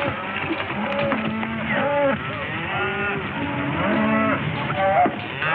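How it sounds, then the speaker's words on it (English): Cattle lowing from a herd on the range in an old Hollywood Western, several overlapping moos rising and falling throughout under a steady, slightly hissy film soundtrack. "It's a fine-looking herd of cattle."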